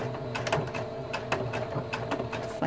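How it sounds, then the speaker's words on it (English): A sewing machine stitching a small quilted mug rug, a short burst of whirring stitches followed by a quick back stitch, close and mechanical with small clicks. "I'm gonna just do a couple of stitches and then I'm gonna do a back stitch"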